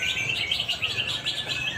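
Canary at an outdoor songbird contest in Palembang, singing a rapid, continuous trilling song that is loud and close, with no voices over it.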